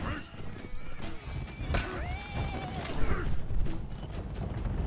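In the For Honor video game, a horse gallops with rapid clip-clopping hooves, a whinny rising partway through and clanking mechanisms around it, all under steady talk.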